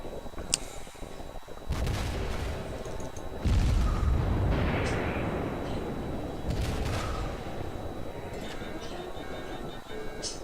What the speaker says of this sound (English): I'm going to try and get into a position where I can just shoot over the island now